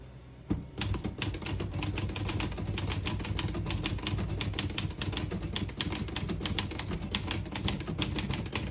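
Rapid, steady keystrokes on an Olivetti Ventura vintage portable typewriter switched to red ribbon ink, crisp mechanical clacks repeating close and loud for several seconds with no voices.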